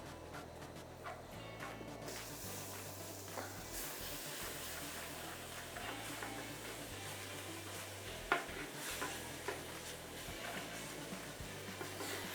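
Steady sizzling crackle of beef frying with spices and tomatoes in a pan, with occasional stirring clinks and scrapes, faint and continuous throughout.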